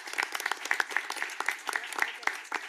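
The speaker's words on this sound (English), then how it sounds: "So a round of applause for them as well." A small gathering claps for conservation corps members, with distinct individual hand claps in a loose, uneven rhythm, fairly close and moderately quiet.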